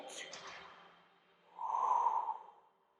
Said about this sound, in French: Et inspirez et soufflez, décollez les jambes.